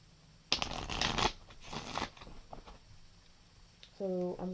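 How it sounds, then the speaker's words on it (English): A deck of chakra oracle cards is shuffled in a few quick riffling bursts at close range, then quieter handling as a card is pulled, with a voice starting up at the end. "So I'm going to pull a card for the root chakra"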